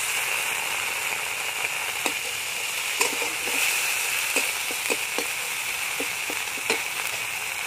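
Ground cumin and coriander paste frying in a pan for a cauliflower dish, a loud continuous sizzle broken by frequent sharp pops and crackles, close by with no voices.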